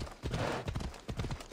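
Horse hooves clip-clopping in Assassin's Creed Odyssey, a brisk run of close, repeated thuds across the short stretch, loud and unbroken by talk.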